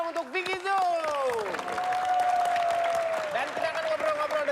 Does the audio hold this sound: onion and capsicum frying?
no